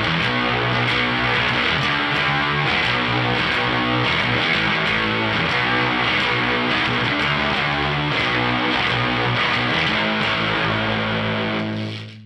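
Electric guitar played through a Super Mruzrite fuzz pedal with the reverb switched off gives a thick, saturated distorted tone, strummed in a steady repeating rhythm that stays loud and dense for about twelve seconds before cutting off.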